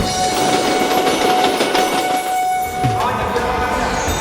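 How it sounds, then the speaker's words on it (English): A sleeper train in India rolls along with continuous loud rumbling and rattling carriages, the noise shifting partway through as a steady tonal whine fades. "we boarded another sleeper train en route to our most"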